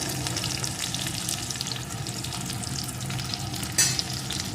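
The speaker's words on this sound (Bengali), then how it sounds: "লঙ্কা কুচিটাও একটু ভেজে নেব লঙ্কা কুচিও এর সাথে একটু ভেজে নিয়েছি" Chopped green chilli fries with tomatoes in a pan, giving a dense, continuous close sizzle with light stirring scrapes and one brief sharper clink near the end.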